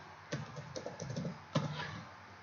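Typing on a computer keyboard at a desk, a few quiet bursts of key taps in quick clusters with short pauses between, close and alone.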